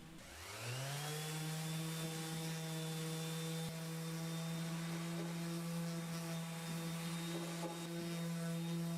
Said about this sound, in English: here's the shop vac that is connected directly to the sander